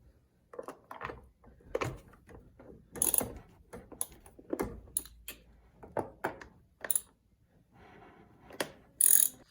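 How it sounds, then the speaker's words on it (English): A ratchet works loose two 10mm bolts on the M60/M62 V8 engine of a BMW E38, E39 or E53, giving bursts of close, sharp clicking with short pauses between them. "Remove those two 10mm bolts."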